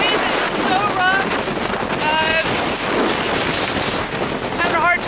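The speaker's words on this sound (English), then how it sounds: "The wind is so rough." Strong, rough wind on the Cornish coast at Lizard Point roars and buffets the microphone constantly, loud and close, with faint birdlike chirps briefly audible under it.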